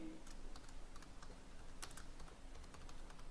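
Fingers type on a computer keyboard while entering cells in an Excel spreadsheet, a quick irregular run of light key clicks, close and clear over faint room noise.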